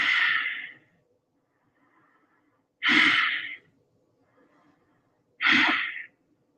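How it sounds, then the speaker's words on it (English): Three deep breaths taken during a morning exercise routine, each a loud, close, breathy inhale or exhale of about a second, evenly spaced with quiet pauses between them. "Take 3 deep breaths here."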